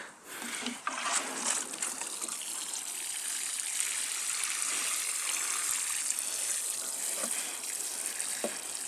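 Rainwater is poured steadily over soil where sugar snap pea seeds have just been planted, a continuous close splashing gush that stays fairly even throughout, with a few small splatters and no talking.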